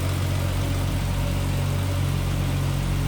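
A 1973 Triumph TR6 inline-six with three two-barrel carburetors on what looks like a Canon intake manifold idles steadily, a loud, even, low rumble close by with no other sounds.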